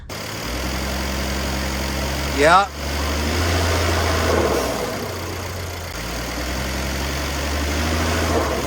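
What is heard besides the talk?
car engine with broken motor mounts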